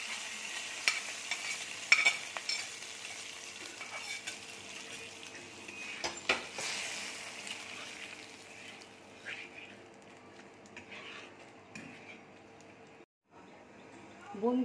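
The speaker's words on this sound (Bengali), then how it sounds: "এবার আমি ফোড়নটা দিয়ে দিচ্ছি।" Mustard seeds and curry leaves fried as a tempering are tipped into a pan of raw mango and coconut bati chorchori, giving a steady close sizzle with stirring and utensil clinks before the sound drops away near the end.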